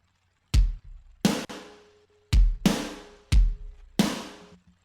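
Drum triggers add kick and snare samples to the chorus of a post-punk rock mix: five loud, punchy hits spaced unevenly over a few seconds, each with a quick attack and a bright decaying tail.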